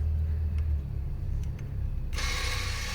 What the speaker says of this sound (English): we're going to put the power back to the motor for the electronic brake so as to re-engage the parking brake with the disc